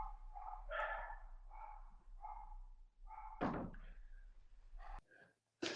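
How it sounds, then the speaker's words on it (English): Dogs bark excitedly at feeding time in a string of sharp, near barks, joined by a loud door slam or thunk partway through, with a brief quiet moment near the end. "The dogs are going crazy, huh? It's feeding time."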